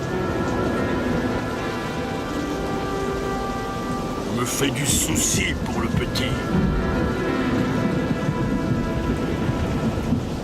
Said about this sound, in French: Cette année-là, il plut beaucoup. Il y eut des orages, des tempêtes et même un raz-de-marée.